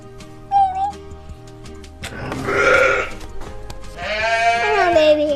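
Sheep and lambs on a farm bleating in short wavering calls, one brief cry early, then a longer, louder bleat near the end, with a person speaking softly between them.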